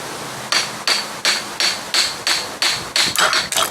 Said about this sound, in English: So I'm gonna give it the old smack it with a hammer trick.